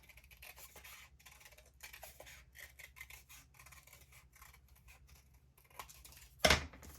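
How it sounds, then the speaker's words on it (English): Scissors snip around a circle of acetate, giving a brief, sharp crisp cut near the end against a quiet, faintly rustling background. "I can just kind of hold it on the acetate and cut around."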